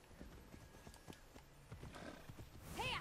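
Horse hooves clip-clop at a steady trotting rhythm in the video game Immortals Fenyx Rising, close and fairly quiet, ending with a loud horse whinny.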